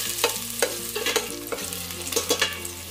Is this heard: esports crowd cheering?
no